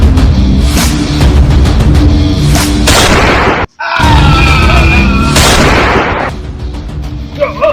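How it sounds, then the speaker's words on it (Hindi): Firecrackers and bombs set off in celebration of a politician's arrival: a dense run of loud, close booming blasts, broken by one brief silence and then resuming, with voices faintly mixed in. "सब गोला पटाखा लगावत है"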